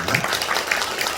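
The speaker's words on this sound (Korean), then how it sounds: "다시 한번 우리 경례 박수 한번 치겠습니다" A church congregation at Gwangju Baekun Church claps together in steady, dense applause that fills the room for about a second.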